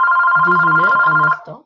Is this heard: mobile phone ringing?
yes